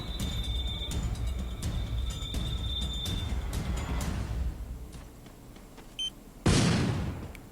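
Free Fire video game shotgun fire: a series of distant shots over a steady background hum and a faint tone, ending in a louder blast of noise.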